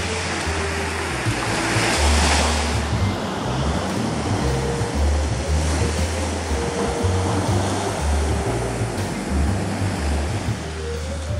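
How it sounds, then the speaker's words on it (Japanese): Ocean swell breaking as an inside break at a Sea of Japan surf spot on a calm, windless morning, a continuous rolling roar of surf with low rumbling swells rising and falling. "いい感じのうねりは入ってきますが、ここまで伸びてインサイドブレイク"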